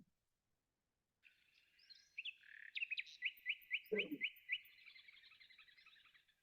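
Birds chirp outdoors in a quiet open setting, a quick run of bright, high tweets repeating in a steady rhythm for a few seconds, moderately near, with no talking.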